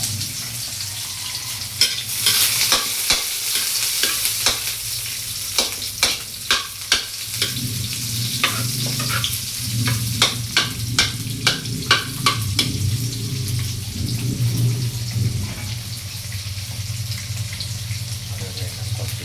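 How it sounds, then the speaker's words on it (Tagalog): Garlic sautés in hot cooking oil for a Filipino coconut-milk dish of coconut heart, sizzling steadily while repeated sharp clinks and scrapes of stirring sound close by, with no talk. "Ilagay ang bawang at igisa."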